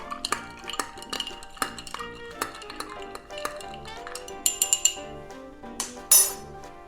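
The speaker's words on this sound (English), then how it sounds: "Give it a little stir." A cocktail glass being stirred after two ounces of rum for a Dirty Cuba Libre, with light clinks, taps and scrapes of a spoon or ice against glass. The sounds come in short, uneven bursts, close up and moderately quiet, with a few brighter pings toward the end.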